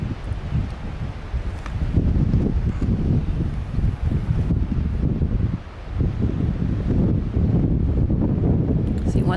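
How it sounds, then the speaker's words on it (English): Strong wind on a hilltop buffeting the microphone, a loud continuous low roar with gusts rising and falling throughout, with one brief lull midway. "Afraid the wind was going to blow my tripod over there over a couple of times."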